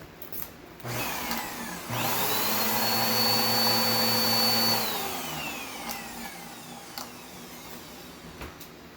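A household vacuum cleaner with a newly replaced drive belt switches on and runs steadily for about three seconds with a rising motor whine, then spins down as it is turned off; no one speaks.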